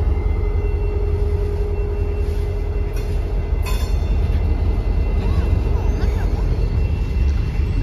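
A freight train rolls past on the Conemaugh Line in Vandergrift with a loud, continuous close rumble of wheels and cars, a brief metallic squeal and clank cutting through midway.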